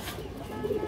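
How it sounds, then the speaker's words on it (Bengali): Black female pigeons in a loft give a soft, low coo near the end of a brief moment, fairly close and quiet, with no voices over it. "এই যে আরেকটা মাদি, 3টাই কালো কালা মাদি দর্শক, এগুলো মাদি কবুতর মাশাআল্লাহ"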